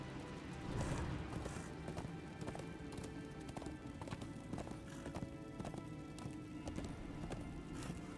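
Horse hooves clip-clop in a steady rhythm in the video game Darksiders 2, faint and continuous over a background hum.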